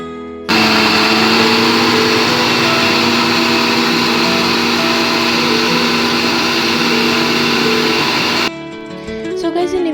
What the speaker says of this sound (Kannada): ಇದೆಲ್ಲ ಆದ ನಂತರ ನೀವು ನೀಟಾಗಿ ಇದನ್ನು ಗ್ರೈಂಡ್ ಮಾಡ್ಕೊಳ್ಬೇಕು